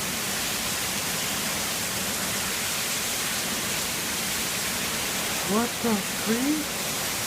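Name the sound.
heavy rainstorm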